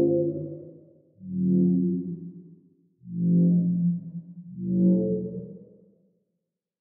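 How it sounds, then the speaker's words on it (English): A droney, dark dubstep bass synth patch built in Serum swells in three long, heavy notes that fade in and out, with a pause between each, loud and alone. "Just a really sick, like, droney kind of dark dubstep bass."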